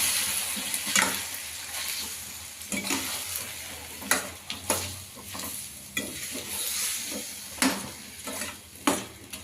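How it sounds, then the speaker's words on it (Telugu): Salted brinjal is stirred in a pan over sizzling oil, with a spoon or spatula scraping and knocking the metal in repeated close strokes, loud and alone without talk. "సాల్ట్ వేసి కొంచెం కలుపుకున్నాను"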